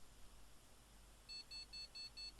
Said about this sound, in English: It's making a fast, continuous beep,